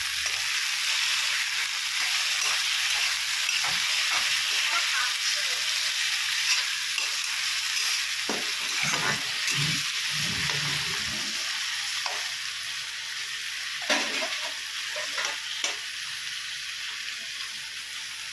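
Onions and tomatoes fry in a pan with a loud, steady sizzle throughout, broken by a few scraping stirs near the middle; no one speaks.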